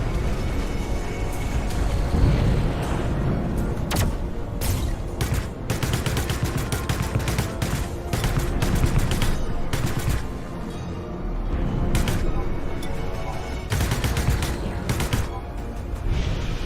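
Ship weapons fire in the space combat game Infinity: Battlescape: a dense, continuous barrage of rapid cracks and thuds over a constant engine-like roar, loud throughout with no pauses.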